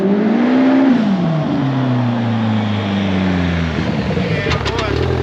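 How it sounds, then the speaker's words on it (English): A turbocharged Polaris RZR Pro R side-by-side engine drones loudly nearby, its tone sliding lower as it approaches. Voices seem to be present beneath the steady engine roar. "Oh, we got a brand new Pro R from Polaris right here."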